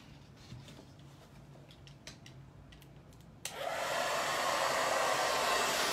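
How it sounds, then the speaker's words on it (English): Blow dryer drying paint on a craft kicks on abruptly partway through, a loud continuous whooshing roar after a few seconds of quiet with light tapping and handling sounds. "I'm literally using a blow dryer."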